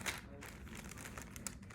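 A damp paper towel is pushed into a small felt bag to prepare a bean for sprouting, giving faint, soft close-up rustling and crinkling for under two seconds in a quiet room.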